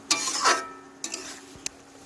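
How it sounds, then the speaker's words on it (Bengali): Goat mutton is stirred into spices in a pan, giving a few short scraping strokes of a spoon with a light sizzle between them. "মাংসটা আমি মশলার মধ্যে দিয়ে দিচ্ছি"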